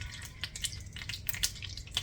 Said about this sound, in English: So when your butter pops like that